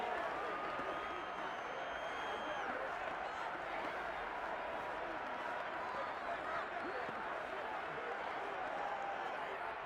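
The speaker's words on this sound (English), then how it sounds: "How about some applause for the defense there?" Stadium crowd noise in the Madden NFL 22 football game, Dolphins versus Saints, a dense continuous roar with clapping and cheering throughout under a commentator's voice.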